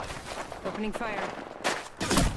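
Gunfire from a solo-versus-squads shooter video game, short bursts of shots cutting in loudly near the end, mixed under excited speech and in-game voice lines.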